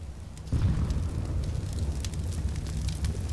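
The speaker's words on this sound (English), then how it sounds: "Grenade." A grenade blast in Counter-Strike: Global Offensive, one sudden booming burst followed by a sustained roaring rumble, loud and close.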